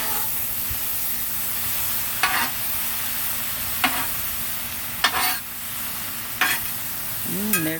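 Food sizzling and frying on a Blackstone tabletop griddle at a truck camper, a steady close hiss with a few sharper spatters and scraping stirs.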